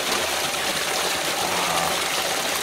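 A large garden water feature roars continuously with loud, dense rushing and splashing flow, steady and close throughout.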